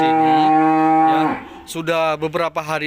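A pregnant dairy cow whose udder has gone slack lets out one long, loud, close moo. A person then starts talking right after it.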